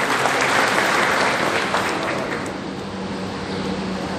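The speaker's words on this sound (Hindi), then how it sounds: "सभी ताली बजाते हैं" Steady applause from a large crowd at a Bharatiya Tribal Party political gathering in Dungarpur, Rajasthan, sustained and dense throughout, gradually easing slightly toward the end.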